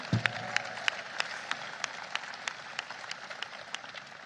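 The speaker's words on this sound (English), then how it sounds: "round of applause for that." At a Washington celebration of the Inflation Reduction Act, a small audience gives faint, scattered applause, sparse individual claps ringing out irregularly over a quiet room hum.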